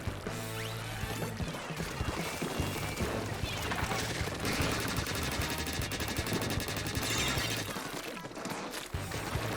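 Enemy weapon fire in Splatoon 3 during a ranked Tower Control or Splat Zones match, dense rapid bursts layered over game music and effects, loud and continuous throughout.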